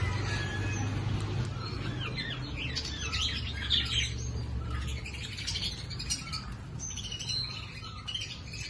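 Several birds chirp and tweet in quick, scattered bursts over a low steady hum, moderately distant and fairly quiet.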